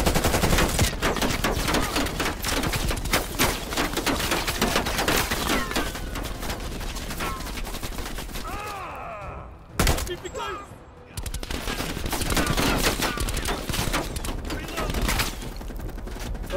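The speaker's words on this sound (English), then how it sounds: "Who's shooting?" Sustained automatic gunfire in the Call of Duty Black Ops Cold War campaign, dense rapid bursts from several weapons over a long stretch, loud and close, with a brief lull before the shooting resumes and occasional voices underneath.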